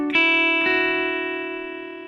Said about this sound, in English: So that's the first fill that you will hear.